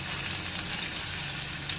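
Onions sizzling in a hot pan while cooking chicken biryani, a steady bright frying hiss with a soft low rumble, continuous and close.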